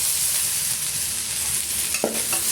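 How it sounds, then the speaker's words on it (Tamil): Two large chopped tomatoes sauté in a hot pan for pepper chicken fry, with a continuous close sizzle and a sharp scrape of a spoon stirring near the end. "இதையும் சேர்த்து நல்லா மசிகிற வரைக்கும் நம்ம இதை வதக்கி விட்டுக்கணுங்க"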